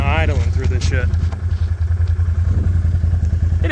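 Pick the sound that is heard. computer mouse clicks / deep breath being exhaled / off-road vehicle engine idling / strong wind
off-road vehicle engine idling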